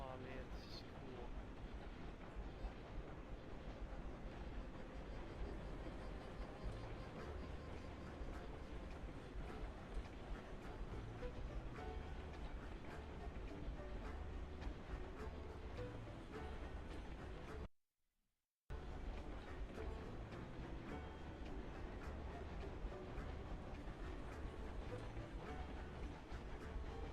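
A train in the video game Railroads Online rolls through the dark with its headlight on, hauling six loaded cars. The rumble is continuous and broadband, with one brief dropout near the end.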